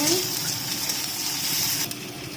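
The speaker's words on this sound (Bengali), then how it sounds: "আদা রসুনটা ভাজা হয়ে গেছে" Ginger-garlic paste frying in a pan with onions for a dim kosha (egg curry), giving a steady hissing sizzle throughout, fairly close and even in level.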